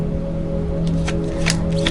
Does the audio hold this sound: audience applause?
no